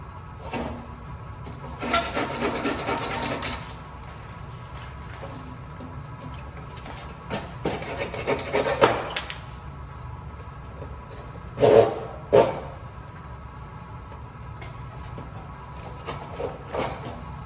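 A handsaw cuts through a wooden overcut in short bursts of rasping strokes, with a few quiet scrapes and knocks between them in a calm indoor space.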